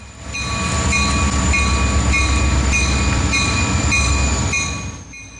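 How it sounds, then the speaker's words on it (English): Rocky Mountaineer passenger train led by GP40-2 locomotives rolling past, with a steady loud rumble and wheel noise throughout and a sustained high tonal squeal above it. There is no speech. "I was greeted by the eastbound Rocky Mountaineer once more, this one being RMR 12R."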